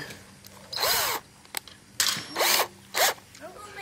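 Power drill countersinking into a fiberglass door panel, three bursts of high whine about half a second each with rising-falling pitch, close and fairly loud, separated by brief pauses and small clicks.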